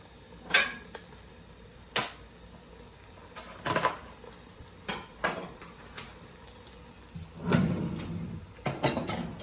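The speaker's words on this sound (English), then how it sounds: "I'm going to start to brown up this sausage a little bit so some of the fat comes out" Sausage browning in a hot pan for lasagna: a soft, continuous sizzle under a string of utensil clinks and scrapes against the pan at irregular intervals, with no talking.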